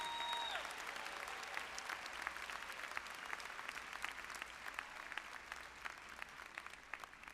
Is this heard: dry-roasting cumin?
no